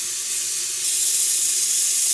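A pot of salted water with pieces of bitter gourd sits on the stove and gives off a steady, close hiss of boiling and steam that grows slightly louder partway through.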